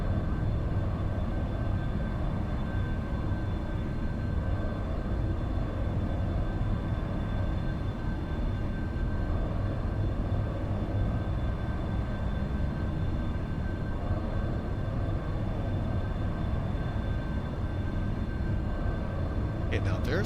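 A Boeing 707-120B airliner cruising in the X-Plane 12 flight simulator, heard as a steady, unbroken engine and airflow roar. A faint high whine runs beneath it, and someone speaks over the drone.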